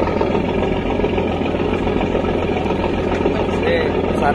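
Steady, loud drone of a ferry's engine heard from on board on a crossing near Ternate, a continuous low rumble with constant broadband noise throughout, with people talking over it.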